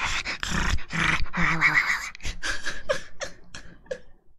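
A person imitates a dog growling in a close, intimate ASMR style, with rough breathy growls, panting and whimper-like sounds in uneven bursts.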